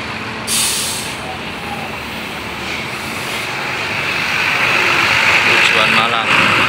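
Buses manoeuvring into parking at the Bungurasih bus terminal, with a sharp air-brake hiss near the start and a loud engine rumble building steadily beneath busy terminal noise.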